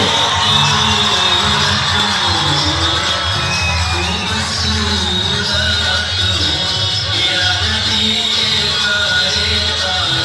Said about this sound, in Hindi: नेताजी का स्वागत करिए दुनिया और जोरदार तालियों से।